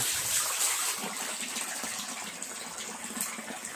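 Water pours steadily into a tank for farming catfish as it is refilled after draining, a continuous close gushing and splashing with no pauses.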